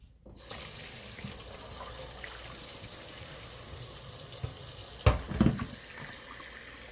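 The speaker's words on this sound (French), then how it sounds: "vous faites de l'eau frette couler sous" Cold water from a kitchen tap pours steadily over boiled eggs in a sink, a constant close hiss that splashes and gurgles briefly near the end.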